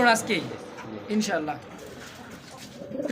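Fancy pigeons, a male and female pair offered for sale, coo in short throaty bursts close by while voices talk over them.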